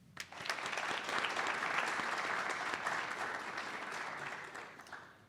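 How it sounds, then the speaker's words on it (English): Audience applause at a dentistry college white coat ceremony, a sustained burst of clapping from a large crowd that swells quickly, holds steady for several seconds and tapers slightly at the end. "take a moment to applaud everyone for being here"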